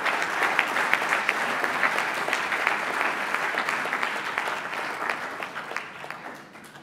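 Audience at an awards evening gives a round of applause for all winners, a full burst of many hands clapping that stays strong before gradually thinning and fading toward the end.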